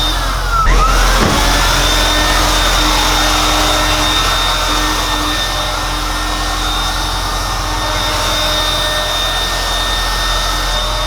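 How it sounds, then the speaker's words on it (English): A car engine idles steadily inside a vehicle being sanitized, a loud, close, constant hum and whine running without pause and with no talking. "We got the car running."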